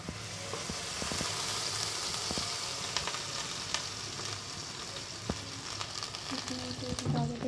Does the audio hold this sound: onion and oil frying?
yes